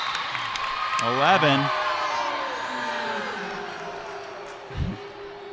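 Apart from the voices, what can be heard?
crowd reacting to a referee's call at volleyball game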